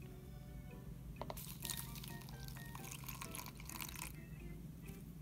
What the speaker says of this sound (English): And I'll just put a small amount of water in to begin with